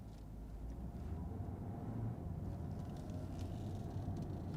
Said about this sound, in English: You can hear the motor chiming away behind us.